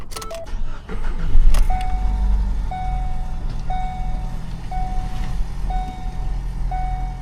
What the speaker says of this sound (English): I want to see how she does with a cold start real quick